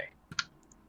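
A single crisp computer mouse click, then a fainter click or two shortly after, close and isolated in a quiet room with no talk.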